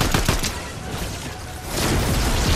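Video game gunfire, a dense fusillade of loud, close shots at the start that thins out and then picks up again at the end.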